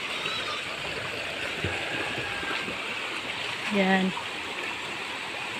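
Steady rush of spring water flowing out fills the scene, with a brief voice cutting in partway through.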